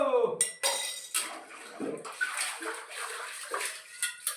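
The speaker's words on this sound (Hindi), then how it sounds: "बर्तन बुर्तन धुल गए।" Dishes, pots and pans being washed with running water, with clinks and clatters of metal utensils and steady splashing close by. No one speaks.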